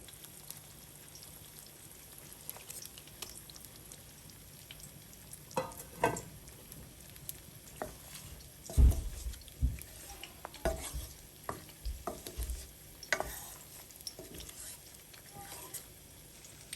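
Shrimp go into a Jamaican curry made with coconut milk, with a soft sizzle and bubbling under scattered stirring clatter and utensil knocks. A few louder thumps come in the middle, and the clip is fairly quiet overall.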